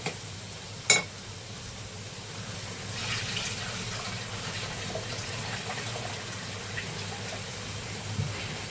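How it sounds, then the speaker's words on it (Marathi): Water runs steadily into a cooking pot of vegetables and val beans from about three seconds on, a soft continuous splashing after a sharp clink near the start. "हे बघा थोडंसं मी पाणी टाकते"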